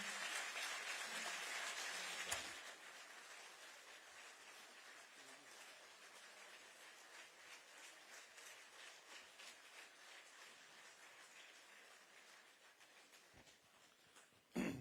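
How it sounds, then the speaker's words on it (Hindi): Audience applause welcoming a speaker at an outdoor public foundation-stone ceremony for housing and power projects, steady and moderately distant for most of the clip before tapering off, with a sharp bump at the end. "आशीर्वचन हेतु तालियों के साथ स्वागत अभिनंदन।"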